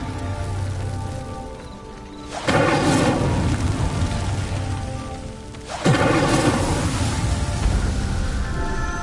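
An Incendio fire spell lights a pyre in Hogwarts Legacy, bursting into two loud, roaring whooshes a few seconds apart, each settling into a sustained crackling rush.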